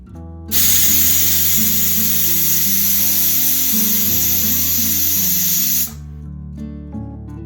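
Rice frying in hot ghee for ghee rice, a loud steady sizzle that starts abruptly, holds for about five seconds and cuts off, with a low hum from the cooking setting beneath.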